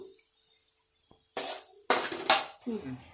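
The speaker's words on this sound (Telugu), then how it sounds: "వేగిపోయింది ఫ్రెండ్స్ బౌల్లోకి తీసుకుంటున్నాను" Fried carrot and semolina mixture tipped from a pan into a bowl for coconut rava laddu, with a few loud clattering scrapes and clinks of utensil on cookware close by, following a quiet stretch.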